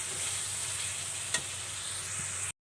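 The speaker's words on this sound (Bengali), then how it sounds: "এখন এটাকে কষিয়ে নেব।" Spices for a lentil and cauliflower curry hiss in a pan, giving an even, continuous sizzle with a single brief clatter near the middle before the sound cuts off abruptly.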